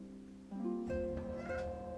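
A cat in the video game Final Fantasy XIV gives a single drawn-out meow, moderately quiet and rising in pitch before trailing off, heard alone.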